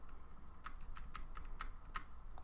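Rapid keystrokes on a computer keyboard while a command is entered to make a localhost website reachable from the internet, a series of sharp clicks ending in an Enter press, close and fairly quiet.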